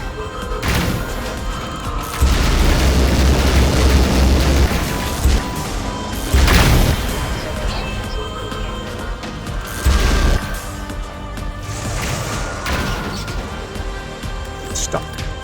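Grenade explosions in the video game Black Mesa, several heavy booms with crashing debris breaking out over game ambience, interspersed with lighter mechanical clanks.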